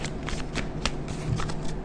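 Tarot cards shuffled by hand in a brisk series of papery riffles and flicks, close and fairly steady, with no talking over them.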